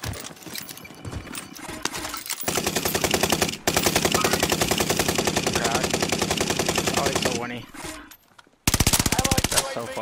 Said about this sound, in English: Yeah, I started shooting.